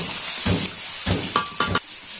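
Meat being sautéed in a pan, a few bursts of scraping and sizzling stir strokes with light clinks of a utensil against the metal.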